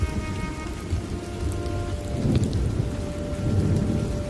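Light rain falls steadily outside, a dense even hiss of drops on surfaces holding at a constant moderate level throughout, with no voices.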